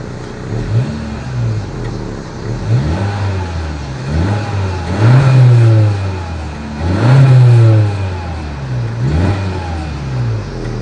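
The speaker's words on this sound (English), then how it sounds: "As always, here is that exhaust clip." A 2020 Honda Civic Hatchback exhaust revs up repeatedly in several loud blips, rising and falling in pitch, with a steady idle rumble between the revs.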